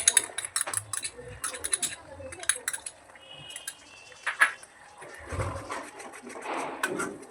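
A spoon stirring spice masala mixed with yogurt in a pan for egg korma, giving light intermittent clinks and scrapes of metal on the pan at a moderate, uneven pace, fairly quiet and close.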